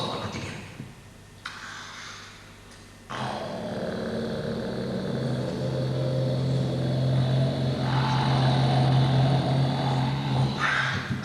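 A person vibrates their lips, forcing air from the lungs to imitate a large transport plane: a sustained, rough buzzing drone that starts abruptly after a short quiet stretch and holds steady, growing slightly louder.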